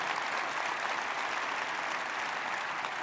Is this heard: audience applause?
yes